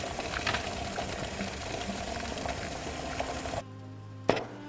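Water simmers over low heat beneath a foil-covered bowl of broccoli omelette, a close, steady bubbling and hiss that cuts out near the end, followed by a single sharp clink.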